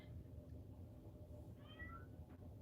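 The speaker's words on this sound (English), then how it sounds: "I think there's a cat outside." A cat meows outdoors, a single faint rising call at a distance over a steady low background hum, with no one talking.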